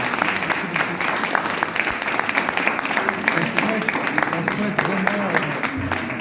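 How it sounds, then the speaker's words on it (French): An audience applauds the mayor of Jonquerettes at a Saint André gathering, with steady dense clapping throughout and voices mixed in beneath it. "On peut applaudir monsieur le maire."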